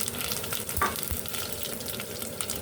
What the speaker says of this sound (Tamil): கடுகு பொரிஞ்சதும் கொஞ்சம் பெருஞ்சீரகம், கொஞ்சம் சின்ன சீரகம், காஞ்ச மிளகாய்,